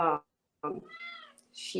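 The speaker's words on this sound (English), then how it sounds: "my cat, you'll hear her." A pet cat meows clearly and close by, with a drawn-out tonal meow between brief bursts of a person talking.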